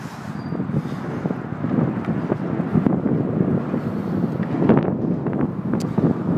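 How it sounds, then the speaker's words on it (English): Rushing wind buffets the microphone of someone riding a bicycle outdoors, a loud, continuous low roar that swells and gusts without a break, with no talking. "the wind is working against me"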